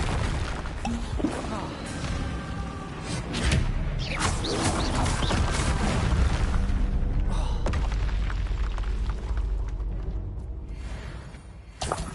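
A Confringo spell from Hogwarts Legacy sets off booming blasts and whooshes inside a dense, continuous wash of game noise. The roar stays loud and sustained for the whole stretch.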